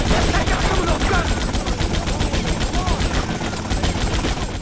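Dense gunfire from Grand Theft Auto: Vice City during a mission shootout, with continuous rapid automatic bursts and overlapping shots forming a loud, unbroken barrage, plus a faint voice mixed in.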